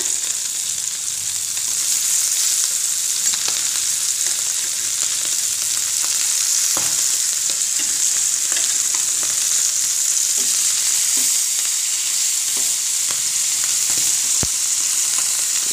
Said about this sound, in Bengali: এই উজাইর মাছটাই আমি এখন বাজা করব